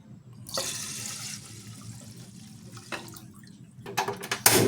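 Water poured into a pot of washed glutinous rice in a home kitchen, a splashing stream that starts, pauses and returns louder with gurgling near the end.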